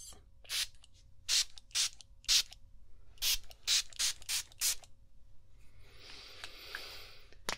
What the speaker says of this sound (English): So we're just going to spray in and around your pillow, and it should just, it'll smell really nice.